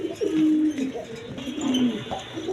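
Red-coloured pigeons kept as a pair for sale coo in two soft, rolling calls close by, with a short pause between them.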